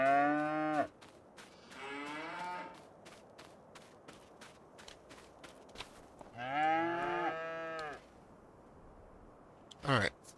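Cattle on a farm in a survival video game moo three times in long, loud, drawn-out calls, each lasting around two seconds, separated by quiet gaps filled with soft footsteps and clicks, ending with a short sharp burst.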